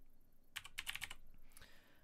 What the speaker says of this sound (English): Apologise for my ultra loud keyboard.